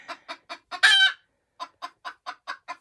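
Naked neck hen clucking close up in a steady rhythm of short calls, a longer louder squawk in the middle, then more evenly spaced clucks, no talk.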